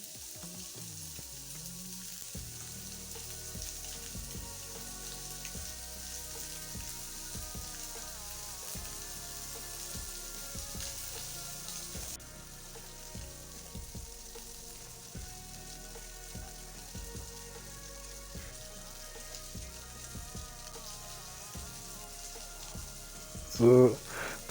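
Pork cubes fry in a pan, giving a steady, fine sizzle with repeated soft clicks and scrapes as pieces are moved apart, ending in a brief louder clatter.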